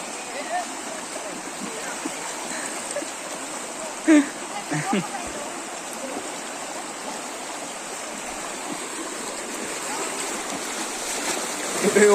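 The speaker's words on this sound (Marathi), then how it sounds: "आणि असं वाहतंय पाणी." Floodwater after heavy rain in Solapur rushes over a flooded well in a steady, broad roar, like a fast stream flowing nearby, with occasional faint splashes and no clear talk.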